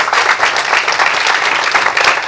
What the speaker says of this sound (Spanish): Dámele un más fuerte aplauso a Jesús